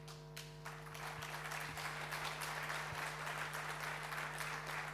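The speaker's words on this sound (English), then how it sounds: "I think the applause says it all, Amit." Steady applause from a conference audience, evenly sustained and fairly soft, over a low background hum in a large hall.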